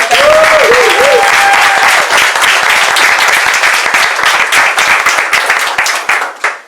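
Audience at an open-mic poetry event breaks into steady, loud clapping that fills the room and holds for several seconds before tapering off, with a brief voice at the start.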